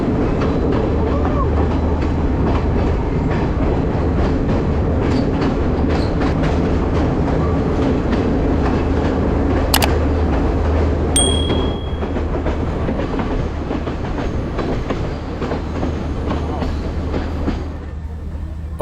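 The Ella Odyssey train runs through tall trees with a continuous rumbling roll and rhythmic clickety-clack on the rails, heard from on board. A brief squeal or whistle-like tone rises mid-way, and faint voices blend into the noise.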